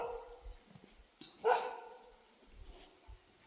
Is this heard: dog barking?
yes